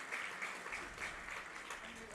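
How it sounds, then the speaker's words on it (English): Baseball fans at a college tournament game applaud after an umpire is hit, faint, scattered clapping from a distant crowd under nearby commentary. "a round of applause from the fans"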